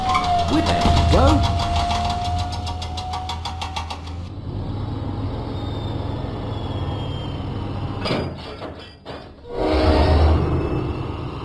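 A diesel locomotive engine chugs and hums in a Thomas and Friends game, starting with a rapid rhythmic rattle and whistle-like tone, settling into a steady mid-pitched drone, then revving louder near the end.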